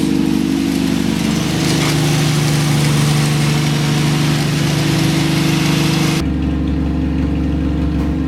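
A straight-six engine idles steadily at a weekly start-up, a loud constant low rumble that runs unbroken for about six seconds and then drops to a quieter, duller idle.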